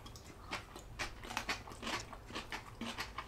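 Close, quiet crunching of daikon radish salad topped with nori seaweed flakes and fish eggs, a steady run of crisp chewing bites with no talk.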